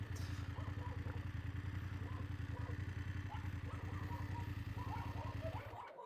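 A motorcycle engine idles in a steady low throb at a parking spot beside a village of old volcanic tuff buildings, running evenly for several seconds before cutting off near the end.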